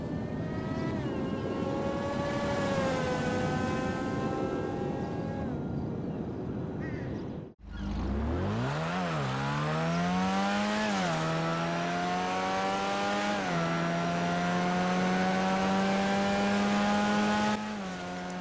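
X80 Proto supercar engine in GTA Online, a very loud continuous whine with harmonic pitch shifts, cutting out briefly before revving sharply upward and holding a high, steady scream with a few quick gear-like jumps.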